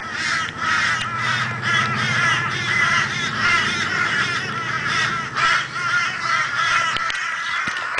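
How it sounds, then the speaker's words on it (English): A flock of crows flying past a house, cawing loudly and continuously in overlapping harsh calls, with a few sharp knocks near the end. "a crowd of crows decides to fly past my house"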